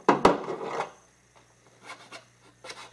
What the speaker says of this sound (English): I'm reaming out the center of the cork ring to match the diameter of the blank